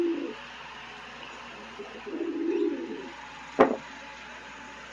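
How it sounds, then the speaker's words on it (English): Pet pigeon in its cage indoors giving low, soft coos in short bursts, close and fairly quiet, followed by a sharper brief flutter or knock near the end, with no talking. "ignore the pigeon in the background. He's throwing a fit because it is almost his bedtime"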